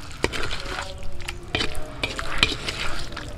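Pork adobo, humba style, stirred and pan-fried in its own thickening broth outdoors: a low bubbling sizzle with scattered spoon scrapes and clacks against the pan, close and moderately loud, with no talking.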